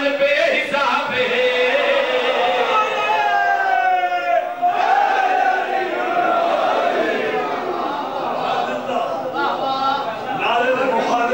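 A large crowd at a Muharram religious gathering chants a slogan together, a loud continuous massed roar of voices with a lead voice rising over it.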